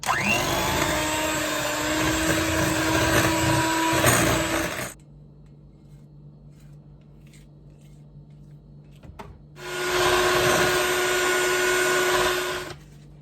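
An electric hand mixer whirs loudly as it creams lemon blueberry loaf batter, running for about five seconds, stopping for a quiet pause, then starting again for a few more seconds.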